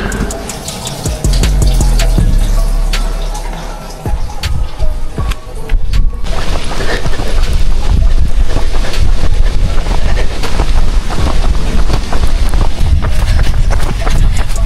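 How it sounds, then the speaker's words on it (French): Strong wind buffets the microphone in loud, rough gusts during a rainy night run, while running footsteps thud in a steady rhythm underneath. "Faut pas oublier que le vent est toujours là."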